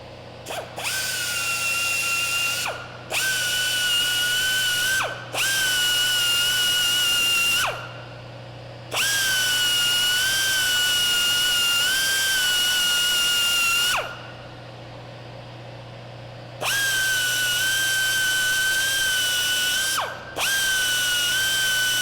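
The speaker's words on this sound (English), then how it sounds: "So just got to take a die grinder and clean this up." A die grinder cleans up a raised section on a motorcycle shock, whining loud and close in repeated bursts of several seconds each, the pitch dipping briefly as it bites into the metal, separated by short pauses with no speech.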